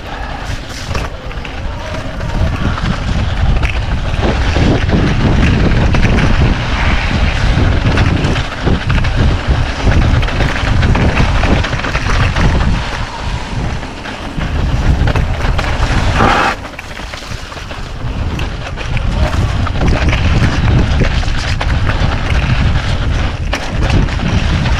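A vehicle rides along wet Cumberland trails in October, pushing through one puddle after another; a steady, loud rumble with wind buffeting the microphone runs throughout, broken by a brief lull partway, with a voice heard now and then.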